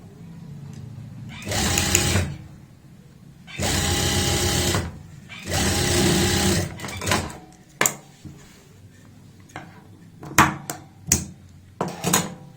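A sewing machine sews a zip seam on palazzo pants in three loud, close bursts of rapid stitching, followed by quieter clicks and knocks as the fabric and machine are handled.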